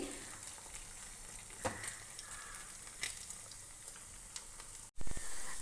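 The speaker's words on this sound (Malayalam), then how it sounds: "ഞാനിവിടെ വെളിച്ചെണ്ണയിലാണ് ഇത് ഫ്രൈ ചെയ്തെടുക്കുന്നത്." Beef pieces frying in coconut oil for a Kerala-style beef pickle, a steady close sizzle with occasional crackles and pops, followed by a brief cut and a louder burst of frying.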